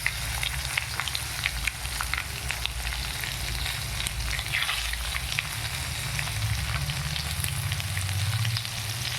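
Onion, green chili and curry leaves sauté in hot oil with mustard seeds for a vegetable idly upma, giving a steady close crackling sizzle with occasional stirring scrapes and no talking.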